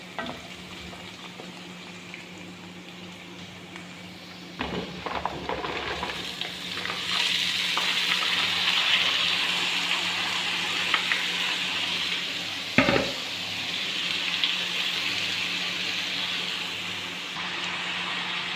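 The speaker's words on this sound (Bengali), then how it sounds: "আর একটু ভেজে আর একটু ভাজা ভাজা করে পরে সিমটি দিয়ে দিব" Chopped green chillies sizzle steadily in hot oil in a pan, close and continuous, with a couple of sharp stirring knocks and scrapes and no talking.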